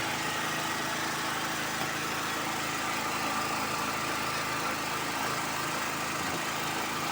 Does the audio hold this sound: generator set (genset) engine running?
yes